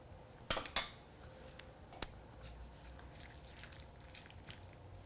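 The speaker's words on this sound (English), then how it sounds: "And stir it all in." Spoon knocking against a pot as yogurt is stirred into mixed vegetable navratan kurma, two sharp clinks followed by a softer tap over a faint, low background hiss.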